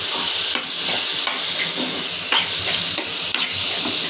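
Taro stirred in a frying pan, with a loud steady sizzle and hiss broken by several spoon scrapes, close by and with no talking.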